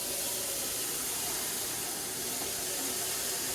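Water running steadily from a tap to fill a pot for ramen noodles, a constant close hiss with no pauses and no voices.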